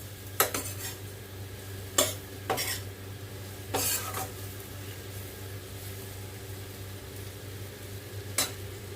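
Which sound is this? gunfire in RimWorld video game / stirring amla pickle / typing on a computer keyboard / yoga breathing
stirring amla pickle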